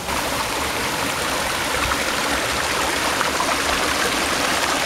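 Shallow river water flows in a steady, soft rushing wash, close by and continuous, with no voices or other sounds standing out.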